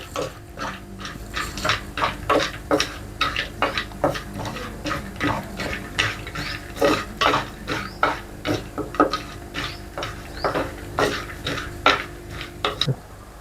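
Vermicelli being roasted in a new clay pot, stirred with steady, rhythmic scraping and clinking strokes against the earthenware, close and fairly loud, with no talk.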